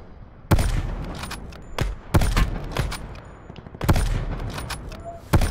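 Gunfire in a shooting video game comes in loud bursts, three main volleys of rapid shots spaced a second or two apart, with sharp individual cracks between them and a quieter background in the gaps.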